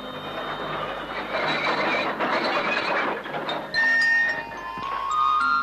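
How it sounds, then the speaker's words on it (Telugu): A train approaches with a steady, rumbling mechanical clatter and grinding. The noise is continuous and fairly loud, swelling slightly toward the end, with no voices over it. "అవతల రైలు వస్తుంది"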